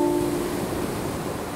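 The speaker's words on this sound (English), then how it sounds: "you realize the power of all this water crashing, and you feel the waves going through you" Ocean waves crash below a cliff edge in a steady, full wash of surf noise, close and continuous with a faint tonal hum fading early.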